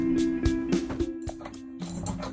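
Ratchet wrench tightening bolts on a wooden 2x6 bed frame inside a Ram Promaster van, heard as a series of sharp clicking bursts at an uneven rhythm, close and fairly loud over a steady background hum.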